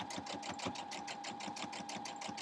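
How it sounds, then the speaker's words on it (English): A sewing machine stitches quickly through a scrappy crumb quilt block of non-cotton fabrics on fusible foundation, a steady close rapid rhythmic whirring of needle strokes running continuously without talk. "I'll sew off the edge like that."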